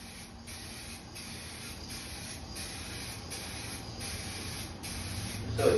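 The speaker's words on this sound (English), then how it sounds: "I'll be spraying this bottom portion" Spray paint hissing steadily onto the underside of a pair of Subaru headlights, a continuous close aerosol hiss broken by short regular pauses between passes, with no talking.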